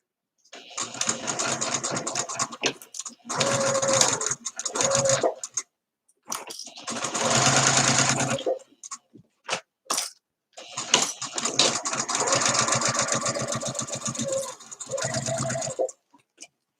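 A sewing machine stitches through flat vinyl in several runs of rapid, steady needle chatter separated by short pauses, loud and close with no voices.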